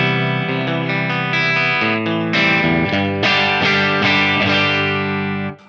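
An American Original 50s Stratocaster plays overdriven electric guitar chords and notes through a Marshall 1962 Bluesbreaker combo, with a thick, saturated, slightly chorused tone ringing out loud and continuously before a quick cutoff.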